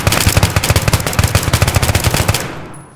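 Automatic weapons fire hard and fast in the Battlefield 3 mission Operation Guillotine. Loud, dense bursts continue for over two seconds, then cut off and leave only a faint tail.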